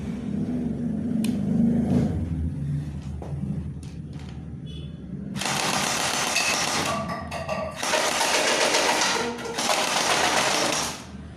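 A TG M4A1 (Senma) gel blaster fires full auto in three sustained buzzing bursts, loud and close, each lasting about one to two seconds. Quieter handling clicks and rustling come before them.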